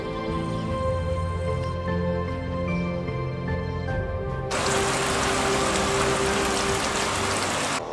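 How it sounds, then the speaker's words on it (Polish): Rain falls in the Bieszczady mountains. A quieter outdoor scene with faint tones gives way midway to a loud, steady hiss of rainfall that continues to the end. "Słuchajcie, w oddali już opady deszczu."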